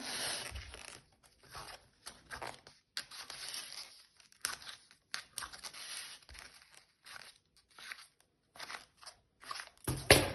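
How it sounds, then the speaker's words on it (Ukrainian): Scissors snip and slide through wrapping paper while a gift box bouquet is wrapped, a series of short crisp cuts and rustles with pauses between them, close and fairly quiet, with no talking. "Далі я так от ріжу. Так буде нам зручніше загортати її."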